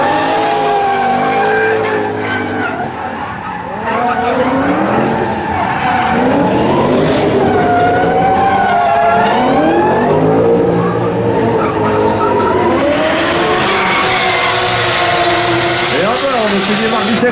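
Drift cars, including a Nissan Skyline, at an indoor Falken drift team show, with engines revving hard and tires squealing in long, wavering screeches, loud and close, while an announcer talks over part of it.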